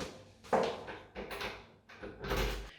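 An old locked door inside a historic building opens into a small vaulted room, giving three rough bursts of handling and creaking movement close by, with no voices.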